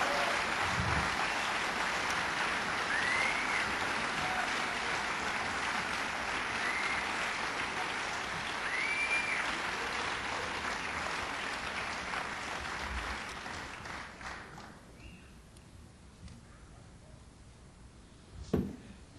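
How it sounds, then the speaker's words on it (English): A concert audience at a 1987 New York blues show applauds a performer with sustained, dense clapping that holds steady, then thins out and fades over the last few seconds, ending with a single brief knock. "could we have a nice round of applause for Mr."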